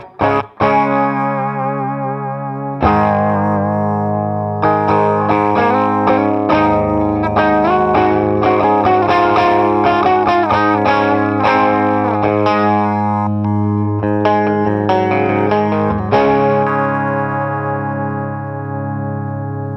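An electric guitar runs through an HOD Orange Two-Stroke pedal, strumming full chords and picked lines with a thick, effected, slightly driven tone, loud and continuous with short pauses between phrases.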